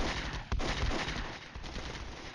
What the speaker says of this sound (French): Il y a du missile et il y a du canon aussi. Il y a de l'autocanon.